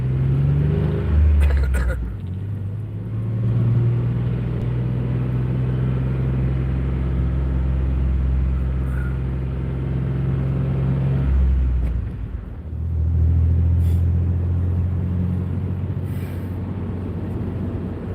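A car with a broken speedometer cable drives along a road toward a farm, its engine and tires making a steady, loud drone that dips briefly partway through before resuming.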